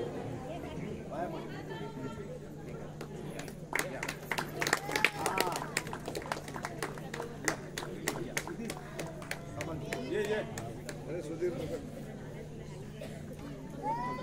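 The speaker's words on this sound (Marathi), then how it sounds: "कृपया जोरदार टाळ्या वाजवायचे आहेत" An audience at a village prize distribution ceremony in Ranewadi, Bapardé, claps together in a dense, rapid patter that builds through the middle and fades slowly, with crowd chatter underneath.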